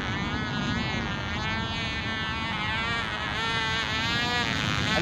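A small model aircraft engine running rich, a steady nasal buzzing drone with wavering pitch as it flies, moderately distant and continuous with no talking.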